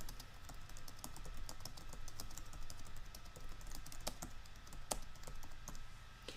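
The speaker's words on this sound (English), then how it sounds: "from the visual tab you just type the same way you would in a word processor" Steady typing on a computer keyboard while writing a post in a WordPress editor, with rapid, fairly even key clicks and a few sharper strikes over a low background hum, close and alone with no talking.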